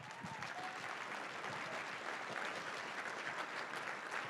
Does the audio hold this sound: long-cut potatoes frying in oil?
no